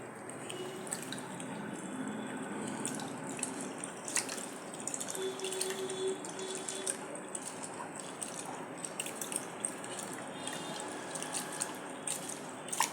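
Soaked tamarind is squeezed by hand in the water left from cooking chickpeas. Soft wet squishing and dripping continue steadily and close, with faint clicks and no talk.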